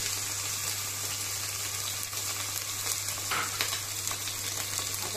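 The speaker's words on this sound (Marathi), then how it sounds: "कांदा चांगला भाजून घेतलेला आहे त्याच्यामध्ये" Chopped onion and garlic fry in a pan for Goan prawn curry, giving a steady, close sizzle with occasional stirring scrapes over a constant low hum, no talking.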